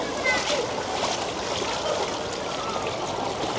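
Strong floodwater rushes and splashes over a flooded Manila street like a waterfall, a loud continuous wash close by, with people talking over it.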